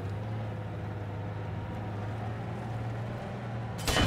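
A tank engine in the video game Battlefield 4 drones with a steady, low rumble and no talking, before a sudden louder burst at the very end.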